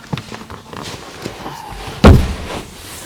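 A 2022 Nissan Qashqai Tekna car door shuts with a single loud, close thump near the two-second mark, preceded by faint handling clicks and rustle.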